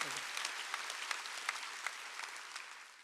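A church congregation clapping during a Korean Wednesday worship service, dense rhythmic applause from a large crowd in a hall that holds steady for about three seconds, with a faint voice underneath.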